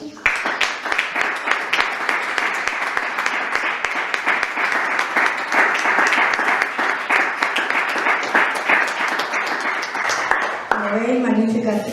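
A community memorial-day recital audience breaks into long, steady applause, dense clapping at full strength for about ten seconds before it stops and a voice begins to speak.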